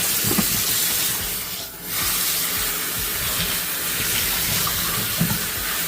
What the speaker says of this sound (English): we are going to turn the pipe on